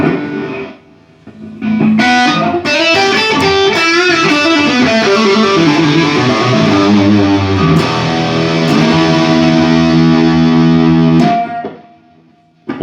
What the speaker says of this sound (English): Let's plug a guitar in quickly.